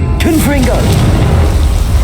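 Booming Confringo spell blast in Hogwarts Legacy, a heavy low-end explosion rumbling continuously, with a brief voice heard right at the start before the impact dominates.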